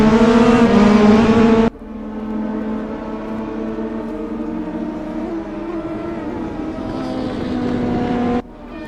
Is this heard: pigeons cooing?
no